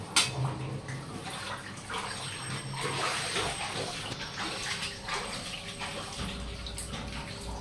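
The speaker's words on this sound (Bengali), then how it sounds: "ওখান থেকে জল টল চুয়ে চুয়ে নিচে পড়ছে" Rainwater drips and trickles through a cracked kitchen roof during a cyclone storm, a steady patter of water falling below with faint background noise and no talk.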